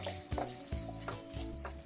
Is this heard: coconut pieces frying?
yes